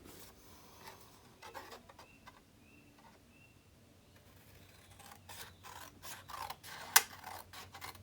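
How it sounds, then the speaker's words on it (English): Scissors cut freehand around a stamped design on card, a close, quiet series of rasping snips and paper scrapes in an irregular rhythm, with a sharp click near the end and no talking. "So now I'm just going to cut round it freehand."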